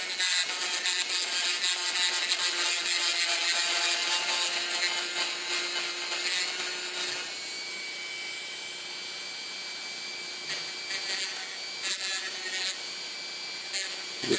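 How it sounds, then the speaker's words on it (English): A cutoff wheel grinds into a dowel pin with a continuous high, harsh whine that holds steady, then eases slightly midway with brief scraping flare-ups, loud and close with no talking. "you can use some kind of cutoff wheel like I'm doing here."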